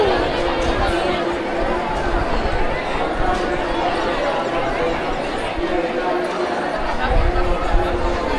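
Dense crowd chatter fills a temple queue, a steady murmur of many voices close around with occasional shuffling and louder bursts near the end.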